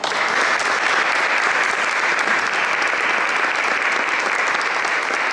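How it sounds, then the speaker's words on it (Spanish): Audience at a Spanish parish conference in Íllora, Granada, clapping for the invited speaker, a steady, loud, even wall of applause that holds at full strength for the whole stretch. "Un aplauso para él."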